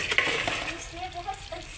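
A dried red chilli drops into hot oil left from frying fish, giving a faint, soft sizzle with light stirring and a few small clinks over a short moment.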